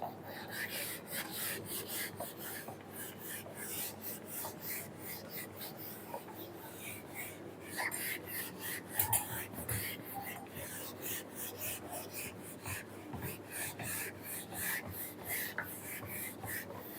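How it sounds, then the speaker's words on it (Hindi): Writing is wiped off a classroom board with rapid, repeated rubbing strokes in a steady back-and-forth rhythm, a dry scratchy sound that is close and fairly even throughout. "चलिए मिटाते हैं।"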